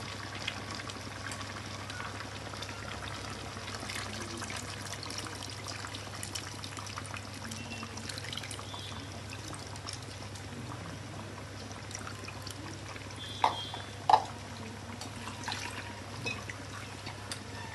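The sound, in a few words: tamarind juice being poured into fish curry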